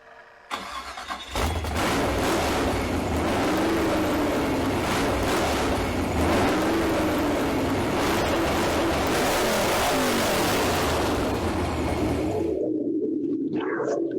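A rebuilt Freiburger 350 V8 car engine cranks and catches, then roars at high revs for about eleven seconds, loud and close, with rough rising and falling pulls before cutting off abruptly.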